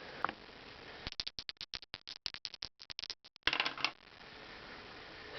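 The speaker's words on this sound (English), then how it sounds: "And then I have my 2 dice ready to go." Two dice rattle and clatter across a board game, a quick burst of dense, irregular hard clicks lasting a couple of seconds, then a final tumble and settling, close and otherwise quiet.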